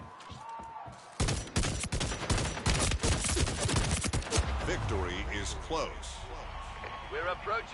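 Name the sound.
gunfire from a 3-round burst rifle in a video game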